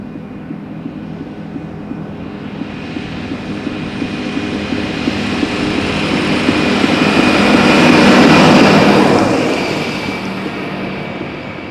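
Embraer airliner landing on runway 18R at Amsterdam Schiphol, a steady broadband jet roar that swells as the aircraft approaches, peaks loudly near the end, then begins to fade, with no talk.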